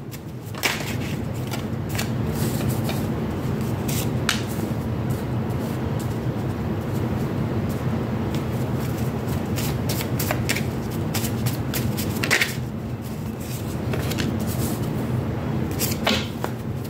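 Tarot cards shuffled close by in a steady, continuous riffle, with sharp flicks and snaps scattered through a constant rustling bed, no talking.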